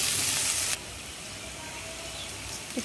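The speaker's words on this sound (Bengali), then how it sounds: "এখন পেঁয়াজ দিয়ে দিলাম, কাঁচামরিচ একটু ভেজে নিতেছি" Onion and green chilli dropped into hot oil in a home kitchen pan, a loud close sizzle that bursts first and then settles into a quieter steady frying hiss.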